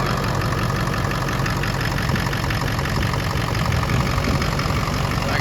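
A rebuilt Ford 6.0 PowerStroke diesel engine idles just after starting, a steady, loud, close rumble that holds even throughout with no pauses.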